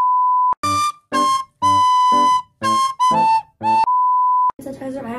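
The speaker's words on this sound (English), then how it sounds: "I love whistle pens." A whistle pen blown in short bursts, several steady bright high whistles of varying length separated by brief gaps, loud and close, with a rustle at the end.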